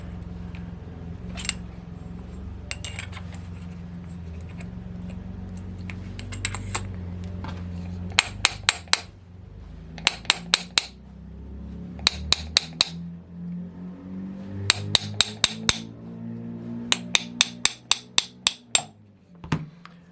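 Sharp metallic taps of a punch driving a bearing out of a Saito FA-72a model aircraft engine, coming in quick bursts of three to five strikes over a low steady background hum, close and distinct.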